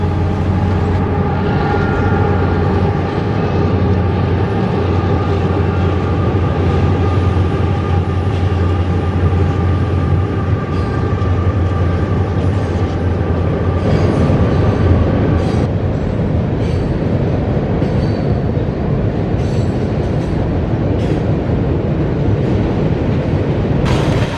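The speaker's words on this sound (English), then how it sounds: "The train is headed to the Georgia-Alabama state line" A heavy freight train rumbles steadily past at close range, a loud continuous roar of wheels and cars with low engine drone throughout.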